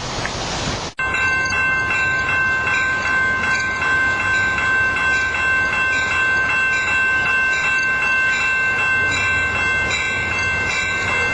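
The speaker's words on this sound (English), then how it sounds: "Here comes the southbound San Joaquin to Bakersfield." Amtrak San Joaquin push-pull passenger train arriving at the old Santa Fe station in Stockton, a loud sustained roar with a steady tonal horn and rail hum throughout, close and continuous.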